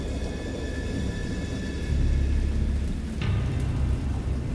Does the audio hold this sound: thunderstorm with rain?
yes